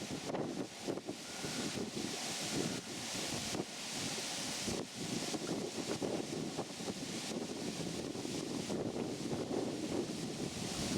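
Wind buffets the microphone outdoors beside a lake, making a loud, constant rumbling roar with gusty surges and no voices over it.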